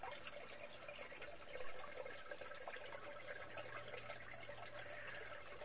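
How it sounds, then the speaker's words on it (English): Water trickling from a natural spring at a holy well in Eastbourne, a faint, steady, hissing flow heard alone and close by. "So in other words, it's a spring."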